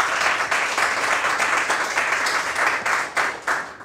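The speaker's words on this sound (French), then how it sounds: "On s'applaudit très fort." Audience clapping steadily and loudly throughout, a dense, sustained round of applause at a Côte d'Ivoire television show on driving school and first aid, with scouts, students and civilians in attendance.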